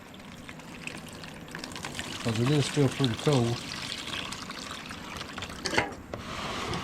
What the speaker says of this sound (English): Now I warmed up some water